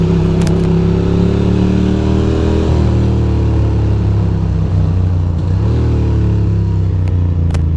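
A motorcycle riding through New York City traffic, its engine droning loud and close with steady low rumble and slight pitch shifts as it revs, plus faint clatter of surrounding traffic.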